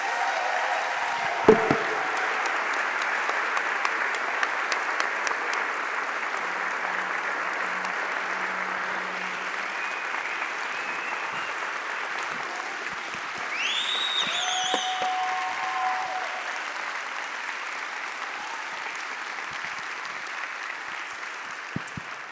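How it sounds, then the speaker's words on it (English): Sustained audience applause fills the room at a CreativeMornings New York talk, a steady wash of clapping from a crowd, fairly loud and continuous, with a few louder individual claps and faint cheers near the middle. "let's give her another round of applause."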